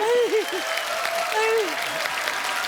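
Studio audience applause on a Hindi TV comedy show, The Kapil Sharma Show, a steady dense clapping wash with a voice singing or calling over it at the start.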